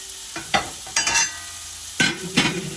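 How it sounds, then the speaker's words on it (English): Onions sautéing in a pan, a steady low sizzle broken by several short scraping stirs, close and moderately loud with no voices. "so let's put in some onions so they can start to get cooked"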